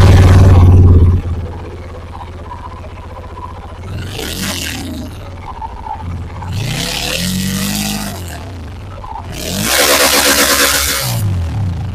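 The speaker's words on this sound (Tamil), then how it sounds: "நான் உங்களுக்கு சைலன்சர் நோட்டை இப்போ ஆட் பண்ணி விடுறேன்." A Jawa motorcycle's engine is revved through its silencer, with four loud throttle blips rising and falling between a lumpy idle and an opening roar, close by and with no speech.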